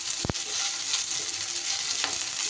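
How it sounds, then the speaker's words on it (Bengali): Cubed onion hitting hot oil with ginger and garlic sizzles in a steady, loud hiss, with a short sharp clatter of stirring near the start and another faint scrape toward the end. "আদা আর রসুনটা একটু নাড়াচাড়া করে তার উপরে দিয়ে দিলাম একটা বেশ মাঝারি সাইজের পেঁয়াজকে আমি কিউব করে কেটে রেখেছিলাম"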